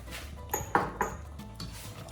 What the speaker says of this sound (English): And then we stir around.